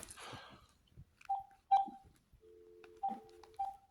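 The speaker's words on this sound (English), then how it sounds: "I'm going to call Mr. Jared and see if I can get him on the phone." Several short electronic phone-keypad tones beep one after another at an uneven pace, with faint clicks and a brief rustle at the start.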